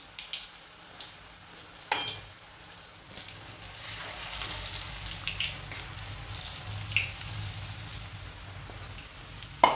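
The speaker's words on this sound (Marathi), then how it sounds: "चांगलं भाजू देऊया आता आपण." Mumbai-style vada pav potato vadas deep frying in hot oil in a home kitchen, giving a steady, fairly quiet crackling sizzle with scattered sharper pops and no talking.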